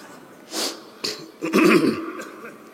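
A man coughs in a few harsh, rough bursts after an insect flies into his throat during a religious sermon; three close, loud bursts follow one another over about two seconds.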